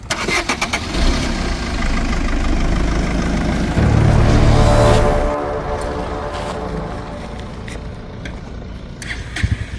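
A car engine close by cranks, catches and settles into a steady idle rumble that keeps running to the end, with a few clicks and knocks near the finish.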